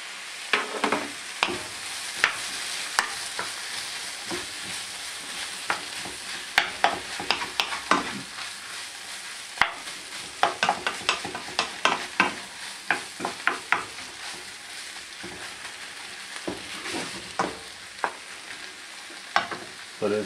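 Sausage and tomato paste fry in a pan for sausage stroganoff, a steady close sizzle broken by frequent sharp scrapes and clicks of stirring, with no talking.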